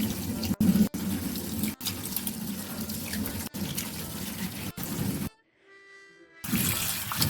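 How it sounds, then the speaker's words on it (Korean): Cucumbers are rinsed by hand in a sink of water for pickling, with steady splashing and running-tap noise, a few sharp knocks, and a brief near-silent pause before the washing resumes. "먼저 오이를 깨끗이 씻어줄 거예요"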